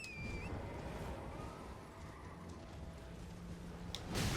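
Rhythmic hoofbeats of a galloping horse in the video game Elden Ring pound steadily under a faint whistling tone, fairly quiet and continuous, with a louder thump near the end.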